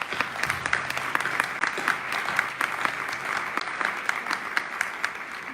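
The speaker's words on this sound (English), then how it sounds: "Let's give them a warm round of applause." An audience at a League of Women Voters candidates forum applauds, steady dense clapping that holds at an even level throughout.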